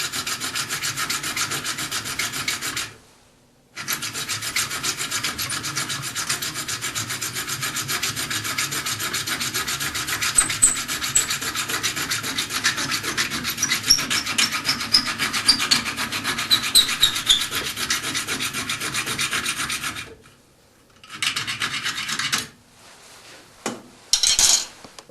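A wire inlay set into a wooden bowl is filed down with steady, continuous rasping strokes, close and fairly loud, broken by a brief pause early on and a few short scrapes near the end.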